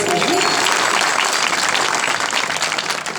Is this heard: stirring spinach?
no